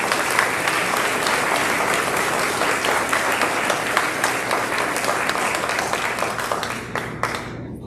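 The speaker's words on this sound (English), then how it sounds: "Let's give these academic letter recipients a round of applause" A large assembly crowd applauds academic letter recipients at the 2024 Louisville Senior Awards Assembly: dense, loud, sustained clapping from many people that tapers off at the very end.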